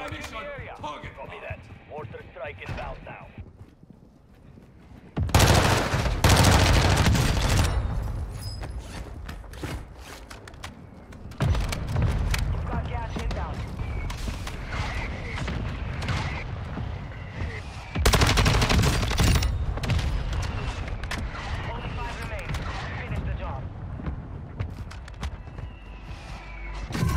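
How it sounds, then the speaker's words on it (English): Gunfire and a mortar strike in Call of Duty: Warzone 2, with loud, dense bursts of shots and heavy impacts. Two especially loud blasts stand out, and the firing continues throughout. "Requesting fire mission. Target. Copy that. Mortar strike inbound now."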